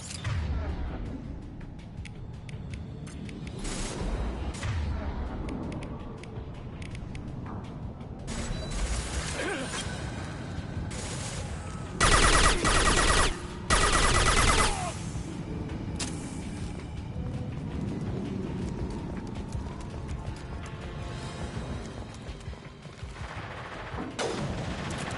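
Combat gunfire in Mass Effect Legendary Edition, bursts of shots and weapon impacts mixed with mechanical clanks and game effects, a loud cluster of blasts midway, set against an ongoing battle ambience.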